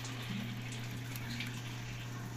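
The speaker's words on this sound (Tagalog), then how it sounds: "maririnig nyo na pumapatak na ang tubig guys" Water runs steadily into a Samsung automatic washing machine, a constant close gush with a low mechanical hum underneath and no talk.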